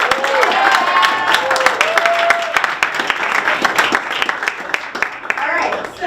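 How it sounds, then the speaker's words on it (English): Loud audience applause and cheering at a student engineering competition, with dense clapping, sharp individual claps and rising whoops from the crowd. "let's give a special round of applause to our teaching staff and the Active Learning Lab staff"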